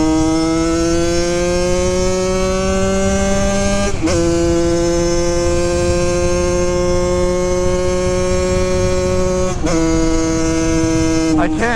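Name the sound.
mini supermoto motorcycle engine revving while riding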